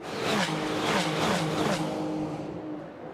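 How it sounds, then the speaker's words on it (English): Ferrari 296 Challenge race cars pass at speed on the Valencia circuit during a Ferrari Challenge Europe race, loud engine notes sweeping by in quick succession before fading away. "Woof, woof, woof, as the cars go by."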